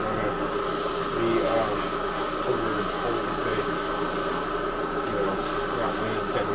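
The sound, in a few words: spray painting Buick car part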